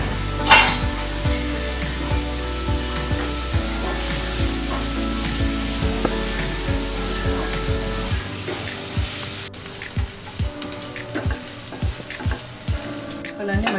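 Beetroot pieces frying on a lit stove, a steady close sizzle with bursts of crackle and occasional utensil knocks, the hiss easing to quieter scattered pops partway through.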